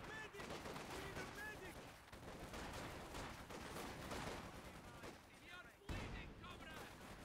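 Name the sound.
Zis-3 artillery barrage in a Company of Heroes video game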